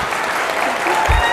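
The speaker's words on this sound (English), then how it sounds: "So let's have a round of applause for Allie." Brief burst of audience applause at a summit keynote welcoming a national ambassador, fairly loud and continuous, with faint crowd murmur mixed in.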